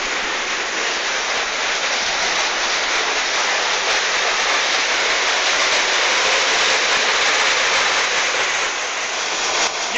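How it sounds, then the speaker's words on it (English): Yad Waterfall in Fife in heavy spate after rain roars with a loud, constant broadband rush of falling water, close and unbroken, with no talking heard over it. "there's a hell of a lot of water coming over."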